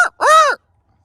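A crow gives one loud, drawn-out caw close by, preceded by a short clipped call, with silence after.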